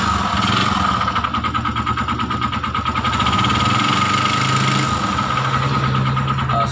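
A TMX Alpha motorcycle engine idles roughly and noisily up close, a loud, uneven chugging beat with rattling mechanical clatter layered over a steady hum, with no talking over it.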